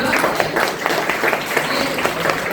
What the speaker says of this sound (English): Give big round of applause to yourself.